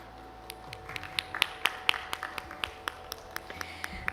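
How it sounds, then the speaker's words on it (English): Scattered applause from a small audience welcoming a founder chairman at a gathering, a sparse run of separate claps and taps rather than a full ovation, moderately close over a quiet room hum. "Can we have a round of applause"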